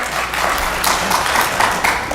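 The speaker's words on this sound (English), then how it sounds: "Please, no clapping." Applause from the audience at a city planning and zoning commission hearing after a motion to deny, a short burst of scattered clapping in a room with some background voices.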